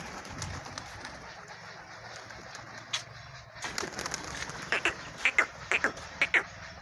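Pigeons cooing close by, several soft throaty coos at first, then a run of louder rhythmic calls repeating about every half second toward the end, with light rustling underneath.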